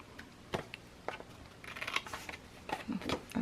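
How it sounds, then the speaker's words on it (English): Small Tim Holtz Tonic mini scissors snip paper to miter corners, a series of faint, close, crisp cuts in an irregular rhythm, quiet and without talk. "These are Tim Holtz tonic little mini scissors."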